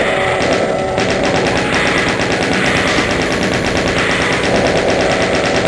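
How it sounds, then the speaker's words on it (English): In TNT Evilution, a Doom map, a chain gun fires a loud, relentless stream of rapid shots that never lets up, filling the whole stretch with unbroken mechanical gunfire. "Alright, we'll use the chain gun."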